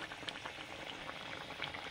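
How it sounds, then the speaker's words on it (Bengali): A spicy curry simmers in a pan, giving a steady, moderately faint bubbling and crackling texture throughout without any talk. "ঝাল ফুটে গেছে"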